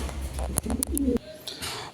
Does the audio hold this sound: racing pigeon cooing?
yes